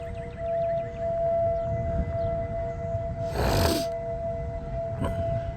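A steady tornado warning siren tone holds through the clip over rumbling wind noise in Oklahoma, with a brief burst of gusty rushing in the middle.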